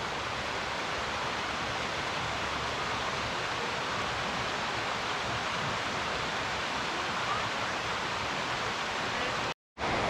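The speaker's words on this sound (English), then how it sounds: "here's the creek below the waterfall." Steady, loud rush of Coal Creek below a waterfall on Cougar Mountain, filling the air without a break as the creek tumbles nearby, cutting out briefly near the end.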